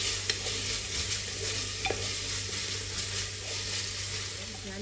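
Coriander leaves, curry leaves and mint are stirred through a hot frying pan for prawn rice, with a steady soft sizzle and occasional scraping taps from the spoon, close and continuous.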